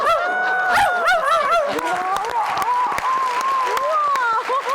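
A man mimics a dog barking with a rapid series of yaps and howling barks, loud and close, amid crowd applause and laughter in a studio.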